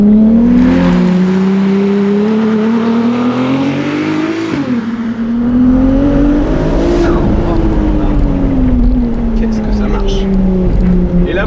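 Ferrari 296 GTS open-top sports car taking an uphill hairpin bend, its engine droning loud and steady, dipping briefly and then rising again as it pulls through the turn, with someone talking over it throughout.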